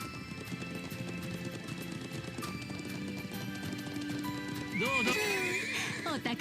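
Horse hooves clip-clopping at a run with a neighing whinny near the end, under steady background music and game sounds, from The Legend of Heroes: Trails into Reverie.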